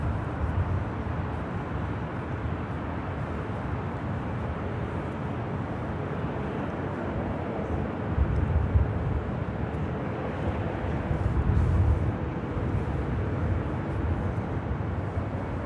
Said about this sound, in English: Emirates Flight 37 Victor, heading back to Dubai in this A380 Super.